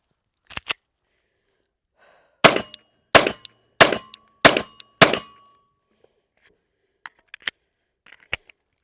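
Five sharp, loud gunshots from a Glock 26 pistol chambered in 9mm crack in quick succession about two-thirds of a second apart, followed by scattered metallic clicks and clinks of the handled gun.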